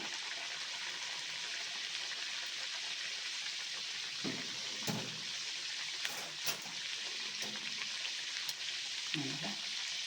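Steady crackling sizzle of karavarki snacks frying in hot oil in a small wok, continuous and close, with a few brief clinks and stirring sounds.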